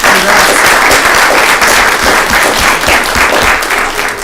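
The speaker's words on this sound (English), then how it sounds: "First years, I'd like to give a big round of applause." A full student Senate chamber bursts into a big round of applause, dense and loud clapping from many people that holds steady without a break.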